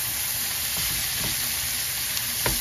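Vegetable filling for lumpia sizzles steadily in a hot pan, with a constant frying hiss and a couple of faint scraping strokes from stirring near the end.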